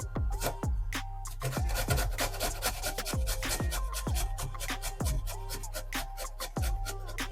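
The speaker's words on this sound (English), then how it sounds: "And then we're going to just grate some potatoes." Potatoes are grated for a roast chicken stuffing, a steady series of quick, rhythmic rasping strokes against the grater, close and loud with no talking.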